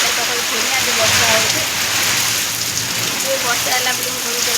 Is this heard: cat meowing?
no